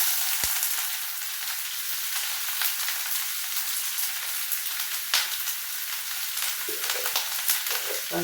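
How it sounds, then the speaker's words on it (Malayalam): Mustard seeds crackle and splutter in hot oil in a home kitchen, giving a steady close sizzle with scattered sharp pops, while rain patters outside in the background. "കടുക് പൊട്ടിച്ച്"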